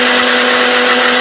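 A blender whirs loudly and steadily, grinding a spice paste of pepper, coriander, garlic, ginger, candlenut, shallots and turmeric with a little water, its motor holding one constant high-pitched drone for the whole moment.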